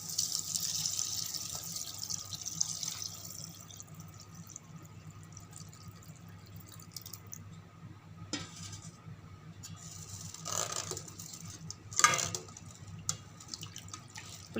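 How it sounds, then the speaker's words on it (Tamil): Tamarind water is poured into a simmering sardine fish curry, a soft, faint trickle and splash with occasional drips, quiet and close with no talk. "நம்ம புளி தண்ணி ஊற்றிக்கலாம்."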